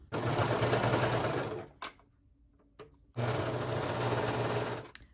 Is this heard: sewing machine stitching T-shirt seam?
yes